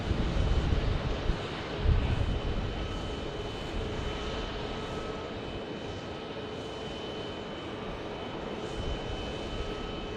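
Jet blast from a Southwest Boeing 737 Max 8 at Phoenix Sky Harbor: a broad, steady engine roar with gusty wind buffeting on the microphone, strongest in the first two seconds, then settling to a sustained rush.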